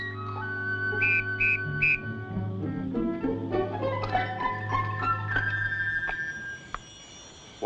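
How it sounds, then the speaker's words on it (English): A shrill, piercing whistle from an eagle wing-bone whistle sounds in a few short repeated bursts, then shifts into wavering, sliding tones over a steady low drone. "Whistle made from wing bone of eagle."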